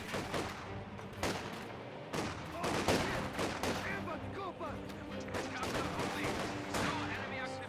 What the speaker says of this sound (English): Another sniper shot there onto the Volksgrenadiers